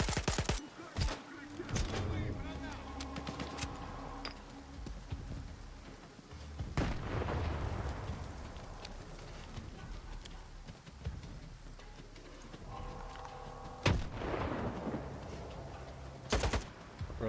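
Gunfire and a grenade blast in the STALKER 2 video game, with sharp shots and scattered crackling bursts over rumbling ambience, and a few loud impacts standing out near the start, middle and end.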